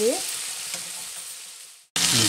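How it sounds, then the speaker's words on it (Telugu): Chicken pieces for Afghani chicken frying in a pan, a steady broadband sizzle that runs for nearly two seconds, cuts out briefly, then returns loud and close with faint stirring clinks. "ఇదిగోనండి 2 పక్కల బాగా ఫ్రై అయిపోయినాయి"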